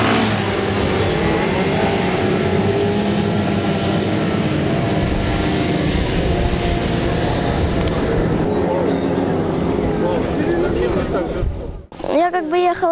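Jet ski racing engines on water during a competition heat, a loud continuous high-revving roar close by with varying pitch, mixed with talk, cutting out briefly near the end before a short burst of other noise.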